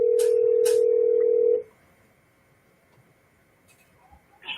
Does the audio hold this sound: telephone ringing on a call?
yes